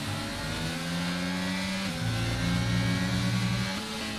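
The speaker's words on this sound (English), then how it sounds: "Oh, the car sounds so good though." A Formula 1 car engine in the F1 22 video game, at the Spanish circuit, drones at high revs, its pitch holding steady then shifting as gears change, loud and continuous with no voices.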